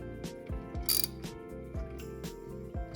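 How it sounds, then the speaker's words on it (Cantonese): Ratchet wrench tightening the last hex bolt on a bicycle bottom bracket, repeated sharp clicking strokes in a quick rhythm, close and clear with no talk. "上最後呢一粒六角螺絲，上緊晒去"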